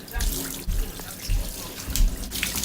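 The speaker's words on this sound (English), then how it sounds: "make sure that you rinse your locks thoroughly to get the solution out" Tap water runs steadily over locs being rinsed after an apple cider vinegar soak, a close, continuous splashing wash with uneven surges.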